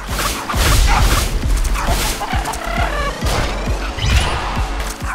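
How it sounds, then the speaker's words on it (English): Chickens in the video game Tokyo Jungle, giving repeated clucking calls over dense game background sound effects and thumps, fairly loud and close. "No, it's chickens."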